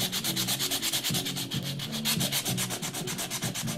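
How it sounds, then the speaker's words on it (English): Sandpaper scrubbing paint off the back of a wooden board for a rustic heart craft, a steady run of quick back-and-forth rasping strokes, close and fairly loud with no voices. "So just get your sandpaper"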